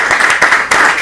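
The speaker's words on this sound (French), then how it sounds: "Je vais applaudir cette conférence et beaucoup applaudir" Conference audience clapping, a brief dense burst of applause heard close and fairly loud.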